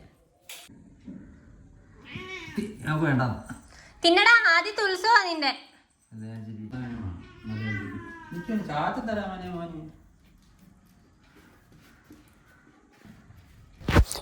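Pet kittens meow while being fed on a leaf for Onam, several drawn-out mews rising and falling, close by, with a person talking to them in between.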